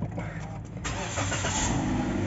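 A Toyota Sienta engine cranks and catches via push-button start, then settles into a low idle rumble close by, after a brief quiet moment.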